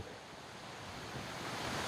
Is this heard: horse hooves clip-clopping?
no